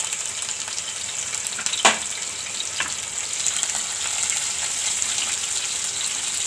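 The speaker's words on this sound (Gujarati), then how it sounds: "તો આપણે આમાં જીરું નાખી દેવું અને આપણે લસણ નાખી દેવું અને આ મરચાં સુધાર્યા છે એ નાખી દેવું" Cumin, garlic and chopped chillies drop into hot oil and sizzle loudly and evenly, with a sharp crackle near the start and a brief clink, heard close up with no talking.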